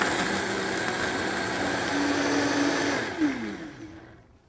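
A Vitamix blender whirs loudly on its preset smoothie cycle, a steady close motor hum that shifts pitch near the end and then winds down and stops.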